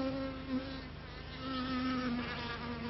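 A honeybee worker buzzes steadily and close by while gathering pollen from pumpkin flowers, its wingbeat hum holding through the whole stretch with slight swells in loudness.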